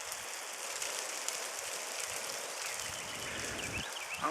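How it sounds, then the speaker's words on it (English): Small bits of ice drop out of trees after a morning ice storm, making a fine, steady pattering and tinkling close by with no voices. "That's actually the ice falling out of the trees from the rain this morning"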